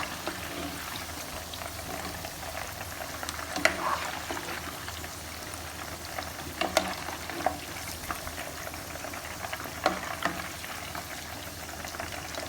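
Meatballs frying in a pan of oil, giving a steady crackling sizzle throughout with occasional louder pops and spatters, close and moderately loud, no talking.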